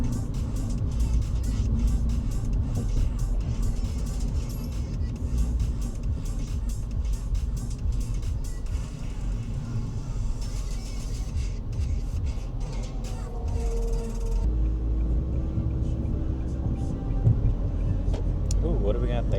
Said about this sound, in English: there's even more traffic